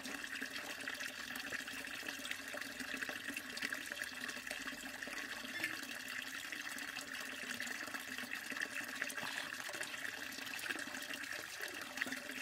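Steady flowing and trickling water runs through a portable purifier outdoors on a pilgrimage walk, a continuous moderate wash with no talking.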